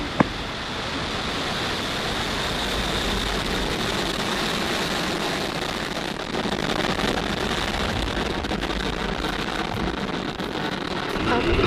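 A SpaceX rocket lifts off, heard from the Space View Park viewing area as a steady, loud broadband roar that holds evenly throughout, with excited voices of people nearby.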